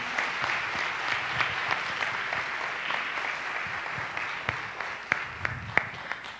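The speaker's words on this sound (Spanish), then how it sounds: "Un aplauso a nuestros ponentes." Audience applause for panel speakers at a conference session, a sustained patter of clapping from the room with a few sharper nearby claps standing out toward the end.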